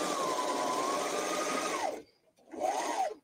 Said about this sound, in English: let's run this through the serger